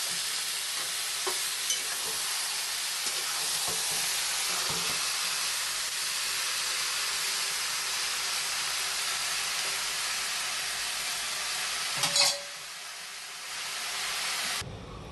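Sliced lemon with salt and spices frying in hot oil for a quick lemon pickle, a steady broad sizzle with occasional stirring scrapes and one louder clatter near the end, no voices.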